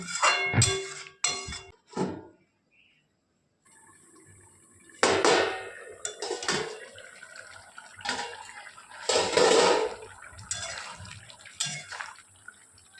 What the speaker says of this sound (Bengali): এরপর জল ঢেলে আর একটু মশলাগুলো কড়া থেকে ভালো করে পরিষ্কার করে একদম জলে ডুবিয়ে ঢাকা দিয়ে দেবো